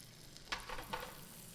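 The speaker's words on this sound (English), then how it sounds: "I'm frying it in butter or sauteing it, depending on what you like." Salmon cakes fry in butter in a pan, giving a soft, steady sizzle with a couple of brief louder crackles and spatters, heard close up with no talking.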